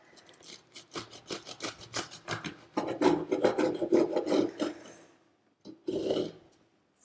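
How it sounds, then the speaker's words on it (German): A knife saws through a loaf of homemade wholegrain bread in a run of rhythmic, raspy back-and-forth strokes, growing louder and crunchier as the blade works through, then a pause and one last short stroke. "Und dann schneide ich auch die erste Scheibe ab."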